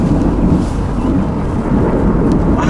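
Loud, continuous rumbling thunder from lightning in a tornado storm near Omaha, rolling steadily throughout with no break and no voices.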